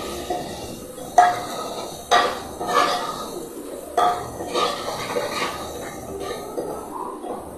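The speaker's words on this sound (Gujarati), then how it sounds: "હવે આપણે બધું મિક્સ કરી દઈશું।" A spoon scrapes and clinks against a cooking pot as spiced food is stirred and mixed, with irregular close knocks repeating every second or so.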